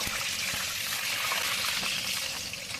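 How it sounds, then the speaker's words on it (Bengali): Potatoes frying in mustard oil in a wok give off a steady, dense sizzling hiss that stays close and continuous throughout, with no voices over it. "এখন আস্তে আস্তে আলুগুলোকে ছেড়ে দেবেন তেলের মধ্যে।"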